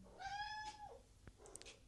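A pet cat gives one clear, drawn-out meow close by and fairly quiet, followed by a few faint small rustles and clicks.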